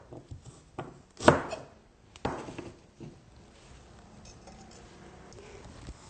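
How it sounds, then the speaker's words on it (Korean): A knife cuts ginger into flat slices for North Korean cold noodles, producing a few sharp, separate chopping knocks spaced about a second apart against a quiet kitchen background. "생강을 납작하게 썰어서 합니다."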